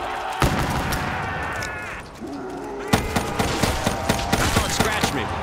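Gunshots in Black Ops 3 Zombies on the Shadows of Evil map, a rapid run of close, sharp shots with a pause in the middle, over game sound and ambience.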